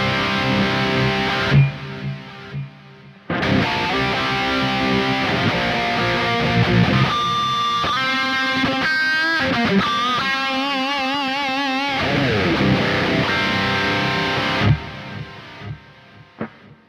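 Distorted metal electric guitar through a Kemper amp profile with a wide stereo delay, playing chugging riffs and sustained lead notes with repeating echo tails, loud and close with no talking.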